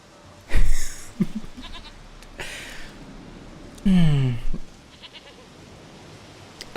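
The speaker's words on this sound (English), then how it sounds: "Goat of mine, dearest, sweetest goat. It's just a goat." A goat in The Witcher 3 video game bleats a few times, loud nasal cries with a wavering quiver, separated by quiet stretches with faint background sounds.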